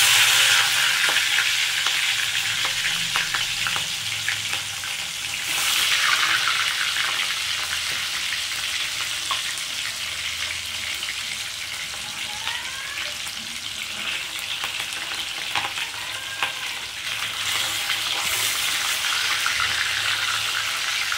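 Pieces of katla fish fry in hot oil in a wok, a continuous loud sizzle with occasional bursts of spitting and spatula scrapes, no voices.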